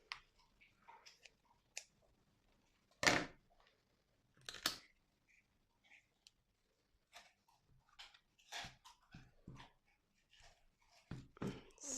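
Dogs shuffle and patter around someone's ankles in a quiet room, with scattered soft taps, scratches and a few sharp clicks at irregular intervals and no talking.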